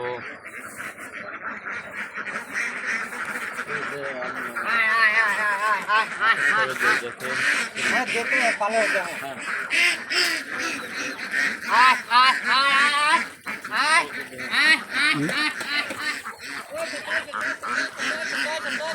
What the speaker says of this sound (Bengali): এই দেন দর্শক, সব হাঁস খাইতে যাচ্ছে।